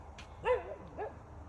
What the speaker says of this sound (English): there's a dog in the middle of the road